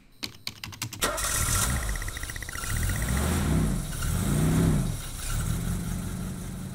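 Car engine in the Stories Untold video game cranks over and catches after a few quick key clicks, then settles into a steady, loud idle with rising and falling revs.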